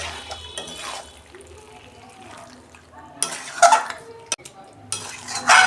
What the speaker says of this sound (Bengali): মাংসটা দিয়ে আমি গ্যাসের ফ্লেমটা আস্তে করে আমি কষাবো মাংসটাকে ভালো করে।